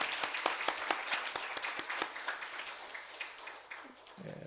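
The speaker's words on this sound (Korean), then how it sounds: "박수로 크게 환영하겠습니다." Church congregation applauding to welcome a visiting missionary during a Sunday service, a sustained patter of many hands with distinct claps, tapering off near the end.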